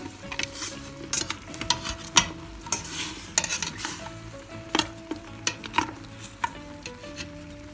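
Beef on the bone cooks in its own juices in a pot, a steady bubbling sizzle broken by frequent sharp clinks and scrapes of a utensil stirring against the metal, close and fairly loud.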